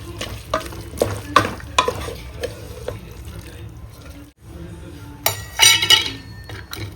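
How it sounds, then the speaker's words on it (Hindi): Minced meat (keema) sizzles and fries in a pan in a Hyderabad home kitchen while a spoon scrapes and stirs it in repeated sharp strokes. There is a brief pause, then a louder, hissing burst of frying. "अच्छा भून रहे खीमे को, इसमें से पानी निकलता खीमे में से, वो इस पानी में इसको थोड़ी देर भून लेंगे"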